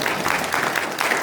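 Audience applause at a book concert and publication celebration, a brief burst of steady clapping from a seated crowd, moderately loud and even throughout.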